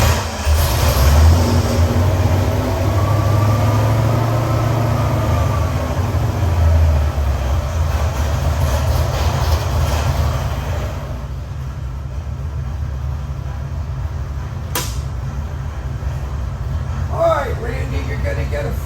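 A 347 cubic-inch stroker small-block Ford engine runs on a dyno, its loud steady rumble rising then easing back to a lower idle, with a sharp clank near the end and voices heard over it.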